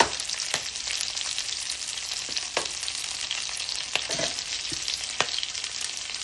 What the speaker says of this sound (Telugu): మళ్ళీ కొంచెం ఒకసారి దీన్ని వేయించుకుంటూ ఉండాలి.